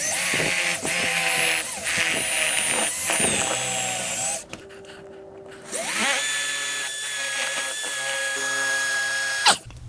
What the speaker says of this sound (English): I'll use the included drill bit that came with the sensor to drill the holes for it